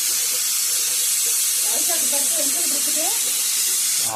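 A pressure cooker of dalcha for mutton biryani lets off steam in a loud, continuous hiss, with faint wavering whistle tones surfacing midway before it cuts off.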